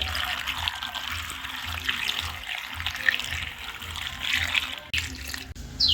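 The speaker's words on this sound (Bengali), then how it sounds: "জল দিয়ে দিচ্ছি।" Water poured from a tap into a cooking pot of potatoes, a steady close splashing rush lasting several seconds with slight changes in tone as the pot fills, no talking over it.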